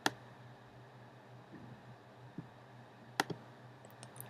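A computer mouse clicks a few times, sharp isolated taps spaced seconds apart over a quiet, faint background hum.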